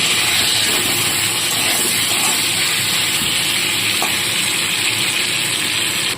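New potatoes with salt and turmeric frying in oil, a loud, dense, unbroken hiss of sizzling close by that holds steady throughout without speech.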